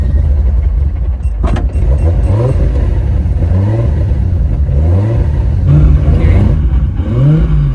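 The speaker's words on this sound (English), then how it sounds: "can I hear the exhaust? Can I fire up the engine?" Nissan Skyline GTR R34 fitted with a 2JZ engine, running loud and close with repeated short revs rising and dropping over a rough idle.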